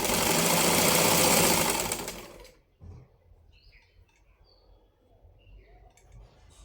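Sewing machine stitching a soft blouse lining, a fast, steady motor whir with rapid needle chatter for about two seconds, then stopping abruptly, leaving faint room noise and a few distant bird chirps.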